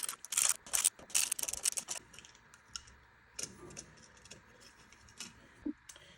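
Small screws are unscrewed from a light fixture with a screwdriver, producing close, rapid ratcheting clicks in quick bursts, then sparser isolated ticks and taps.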